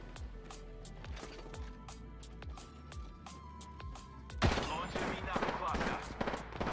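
Game gunfire from Apex Legends: a long run of sharp shots and bursts, moderately loud, growing denser and heavier toward the end, with game sound effects around it.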